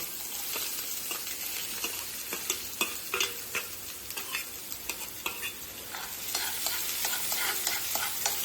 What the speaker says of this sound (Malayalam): നമ്മളിതേ നേരത്തെ അരിഞ്ഞു വെച്ചിരുന്ന കുറച്ച് പിന്നെ കൊച്ചുള്ളിയും ഇഞ്ചിയും വെളുത്തുള്ളിയും കൂടെ നമ്മൾ ഇതിലേക്ക് ആഡ് ചെയ്യുകയാണ്